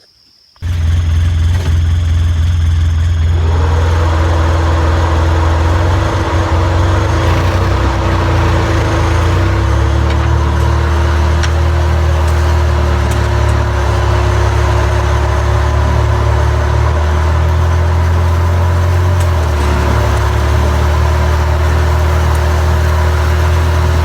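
A vehicle engine idles and runs steadily at close range while towing a trailer carrying a deer feeder through a field, a constant low drone with a sustained tonal hum throughout, no talking.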